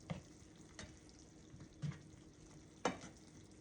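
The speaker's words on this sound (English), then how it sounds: "I'm going to take those potatoes and I'm just going to mix them in here just like this" Potatoes are stirred into cooked green beans in bean stock, giving soft wet spoon scrapes and quiet sizzling in short intermittent strokes, close but faint.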